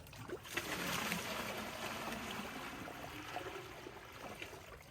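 Water pours steadily into a pail, a continuous rushing splash that stays close and fairly loud for the whole stretch, with no talk over it.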